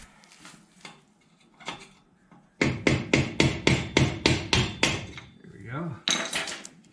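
A hammer striking a punch to knock off a parking brake part on a Datsun 521 mini truck: a few scattered taps, then a steady run of about nine sharp metallic blows, close and loud.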